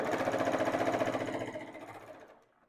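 Sewing machine running steadily as quilt blocks are stitched together with a quarter-inch seam, a fast rhythmic whirring that slows and stops after a couple of seconds, close and alone.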